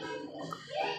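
Oreo Dairy Milk milkshake poured into a glass, a short close liquid splash and trickle lasting about a second, steady and fairly loud with no talking.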